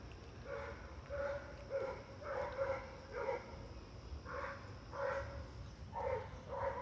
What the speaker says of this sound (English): this dog is out here going crazy